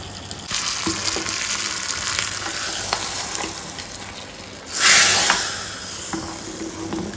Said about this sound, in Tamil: இந்த ஸ்டேஜில் நம்ம அந்த தாளிச்சி கொட்டினதை போட்டுடணும்.